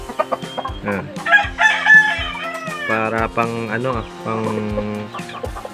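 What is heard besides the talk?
chickens, Aseel breed hen clucking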